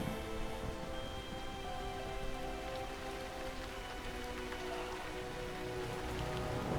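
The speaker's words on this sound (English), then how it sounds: "And it's raining." Steady rain falls in the video game Ori and the Blind Forest, a continuous even patter over a layered ambient music backdrop, with no voices heard.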